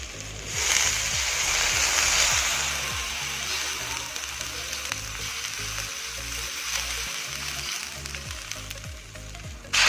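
Frying Indomie seasoning made with Aceh noodle spice paste sizzles steadily and loudly, with a gush of about 300 ml of water poured in early that leaves a softer, bubbling sizzle afterward.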